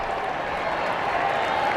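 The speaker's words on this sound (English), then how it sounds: "Crowd encouraging this offense on 3rd and 7" College football crowd at a Washington vs Indiana game, a dense, steady roar of cheering and applause from a large stadium audience, continuous and fairly loud across the short stretch.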